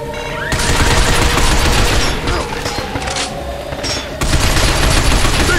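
Sustained automatic gunfire rattles loudly against robots' legs in Binary Domain, bursts running almost nonstop with a brief dip midway, close and heavy amid mechanical clanks.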